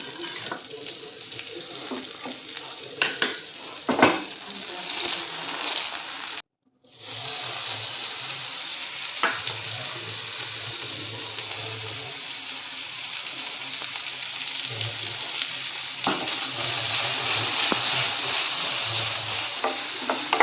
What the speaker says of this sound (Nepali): गार्लिक र बेकनलाई चाहिँ मजाले यसरी सौदै गर्नुपऱ्यो, फ्राई गर्नुपऱ्यो जबसम्म यो करारा हुँदैन, क्रिस्पी।